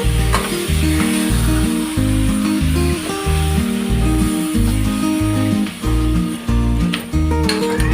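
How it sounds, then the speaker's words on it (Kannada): Mutton pieces hit hot oil in a pot for Hyderabadi biryani, sizzling loudly and steadily, with short breaks in the rhythm as the meat is stirred and turned. "ಈಗ ಮಟನ್ ಹಾಕ್ತಾ ಇದ್ದೀನಿ."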